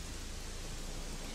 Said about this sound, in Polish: Nareszcie, jest piękna ulewa i ją widać.